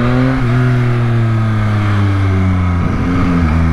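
A 2021 Yamaha MT-09 motorcycle engine fitted with an aftermarket silencer, running loud and close with a steady droning note that shifts pitch slightly as the revs change, heard alone throughout.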